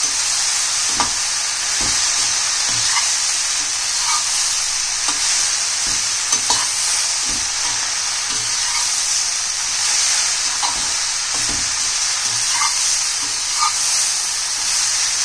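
Okra frying in a pan with tamarind juice added, giving a steady loud sizzle and hiss with scattered crackles and the scrape of stirring throughout.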